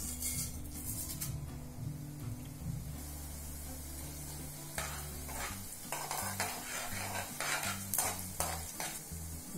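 Mustard seeds, urad dal, fenugreek and a pinch of asafoetida fry in two tablespoons of hot oil in a pan for ginger chutney, a steady close sizzle with scraping stirs and a low tonal hum running underneath.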